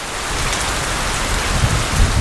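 Heavy rain pours steadily, a dense close hiss of drops on surfaces with a low rumbling undertone, loud and continuous with no voices.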